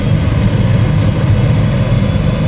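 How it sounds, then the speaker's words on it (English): In PowerWash Simulator, a big jet passes overhead as a loud, continuous low roar that holds steady without a break, with no voices. "We're hearing the big jet thing."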